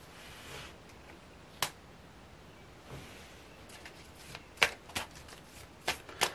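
Tarot cards are shuffled and drawn, heard as scattered, close, crisp flicks and slaps of card stock, quiet between a handful of sharp snaps toward the end.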